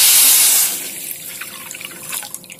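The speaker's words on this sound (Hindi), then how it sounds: "और उसमें पानी डालूंगी।" A gush of water pours into a pan on a gas stove holding sugar for syrup, loud at first, then fading into soft drips and trickles.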